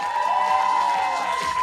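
Fans in the audience of a comedy league competition cheer loudly for a team, a steady wall of shouting voices with a high sustained cry running through it.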